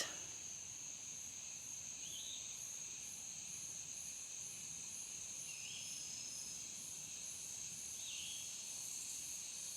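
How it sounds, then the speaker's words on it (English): Insects, probably cicadas, drone steadily in a woodland setting, a continuous high-pitched buzz with faint periodic pulsing that holds at an even level throughout, with no talking. "the birds I hear, the cicadas, because they're everywhere."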